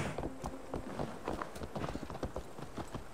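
Horse hooves clip-clopping in Assassin's Creed Valhalla, a quiet, steady trotting rhythm of hoof strikes continuing throughout.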